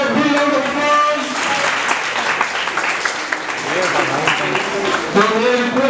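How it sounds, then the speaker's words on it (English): An audience at an annual alumni meet applauds steadily and fairly loudly, the clapping holding for several seconds while voices and cheers mix in. "Please give them a big round of applause."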